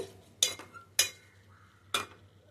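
A spoon stirring green chillies and onions in a pan for a chicken gongura curry, three sharp close scrapes spaced about half a second apart over a faint background hum, with no talking.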